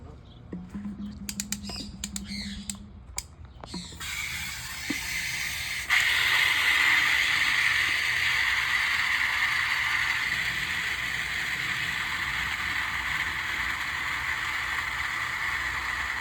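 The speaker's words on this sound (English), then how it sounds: "You want to put it on a mist mode like that." A spray bottle mists water inside a reptile enclosure, a steady loud hissing spray running for many seconds after a few clicks and taps from handling the trigger.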